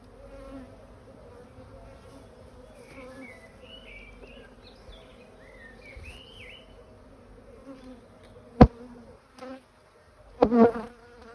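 Honeybees hum in a low, faint, continuous drone as a beekeeper works through a hive stacked with supers in April, with a few sharp clunks of equipment near the end.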